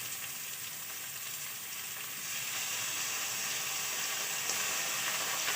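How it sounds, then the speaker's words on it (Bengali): Vegetables for egg chow mein fry in a pan as vinegar goes in, a steady hiss that swells louder and brighter partway through and keeps sizzling close by. "এই টাইমে আমি দিয়ে দেবো 3 চামচের মতো ভিনিগার।"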